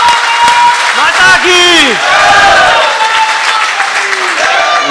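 Audience applause at a Hindi veer ras kavi sammelan in a pandal, a dense round of clapping over steady crowd noise, with speech and whistle-like tones running across it.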